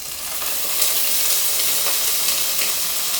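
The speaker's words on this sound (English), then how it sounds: "Nice sizzle." Steady, close sizzling of food frying in a pan for green shakshuka, a continuous crackling hiss with small pops throughout.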